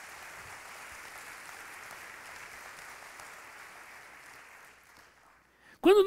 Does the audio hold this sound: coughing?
no